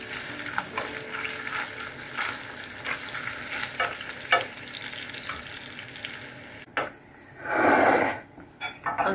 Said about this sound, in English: I'm turning the sausages and the onions now.